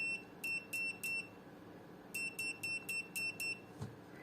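Sharp, high electronic beeps from an Aneng 621A digital multimeter's continuity buzzer in resistance mode, in two bursts, three quick tones then a longer run of five or six, loud against a quiet background.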